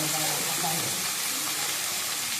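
Onions sauté with salt in a pan as the base for a crab gravy, giving a steady, close hiss and sizzle that runs without a break for the whole stretch.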